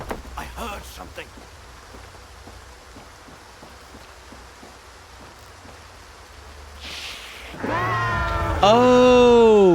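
A cat-dog demon creature from the video game S.T.A.L.K.E.R. 2 lets out loud, wavering yowls and meow-like cries near the end, rising out of quiet rainy ambience with a few earlier faint noises.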